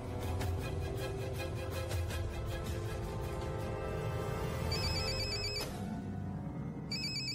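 A telephone rings with a repeating electronic ringtone, steady and fairly quiet, under a music-like background, and the ring pattern shifts partway through.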